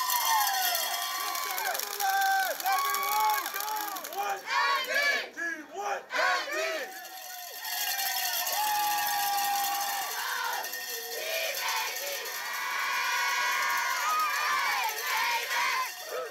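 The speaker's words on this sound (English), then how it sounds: "Hundreds of young athletes from every corner of our great nation cheering on their teams" Hundreds of young athletes at the Canada Games cheer and shout together in a loud, echoing crowd, rising and falling in waves of whoops and yells, with brief dips between bursts.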